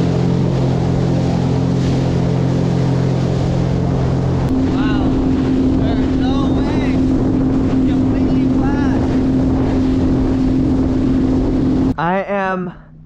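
A steady engine drone from a Sea-Doo personal watercraft on the sea off Long Beach runs throughout, with wind buffeting the microphone and faint water splashing, ending abruptly.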